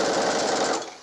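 A sewing machine quilting a fabric pouch runs in a fast, steady, buzzing rhythm for about a second, close and fairly loud, then stops abruptly.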